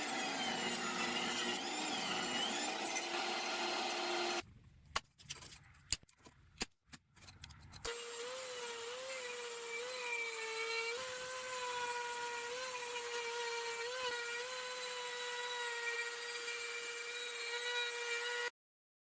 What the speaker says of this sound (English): Also cut a little square hole in that piece with a jigsaw